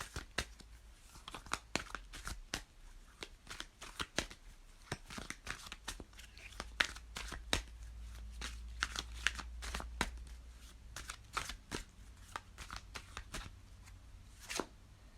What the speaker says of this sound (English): Shuffle and pull.